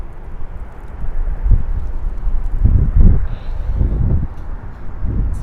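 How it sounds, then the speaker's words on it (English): Strong wind gusts buffet the microphone on a cold night outdoors in Stockbridge, Georgia, in low rumbling bursts that rise and fall every second or so. "It's very windy and very cold."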